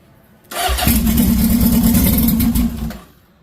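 A turbocharged mini-bike engine starts with the choke on, catching abruptly into a loud, rough idle for about two seconds before dying away, close and alone.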